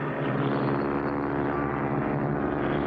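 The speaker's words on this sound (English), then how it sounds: "There's another plane right on top of us." Propeller airplane engine droning in flight in an old cartoon, a steady, loud, unbroken roar that holds at full strength throughout with no pauses.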